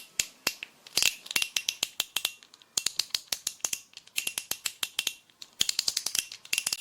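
A fidget spinner with eight clicking segments rattles as it turns, giving rapid, close, bright ratcheting clicks in bursts with brief pauses, loud and alone with no voices.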